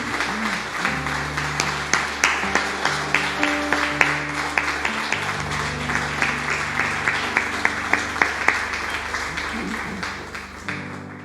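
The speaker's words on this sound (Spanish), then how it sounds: "Denle un fuerte aplauso al Señor" A church congregation gives the Lord a loud round of applause at the end of a service, steady clapping with regular sharp claps over sustained background music tones.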